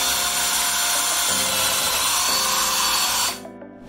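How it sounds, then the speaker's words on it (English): A power drill with a quarter-inch pilot bit bores through a garage wall and sill plate, grinding loudly and steadily for about three seconds, then stops abruptly, leaving a faint room tone. "poke in with a quarter inch pilot bit"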